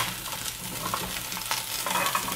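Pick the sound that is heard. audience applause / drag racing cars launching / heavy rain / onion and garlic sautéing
onion and garlic sautéing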